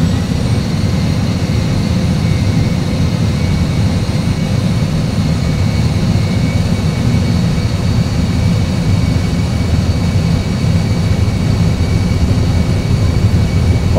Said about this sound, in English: ready for takeoff? All right, ready. Okay, takeoff.